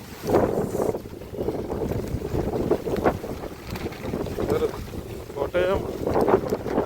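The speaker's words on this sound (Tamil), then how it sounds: "காற்று பயங்கரமாக அடிக்குது" Strong wind buffets the microphone in heavy gusts beside a river in a village, with a rushing roar throughout and brief bursts of voices mixed in.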